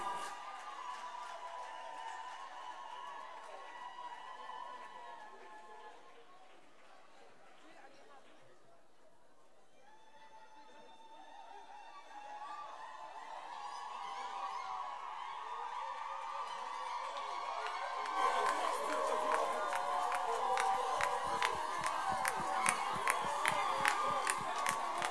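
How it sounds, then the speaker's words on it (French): A church congregation at a youth convention acclaims the children's choir. Singing and voices fill the first part, then loud rhythmic clapping and cheering build and carry on to the end. "Est-ce qu'on peut encore les acclamer?"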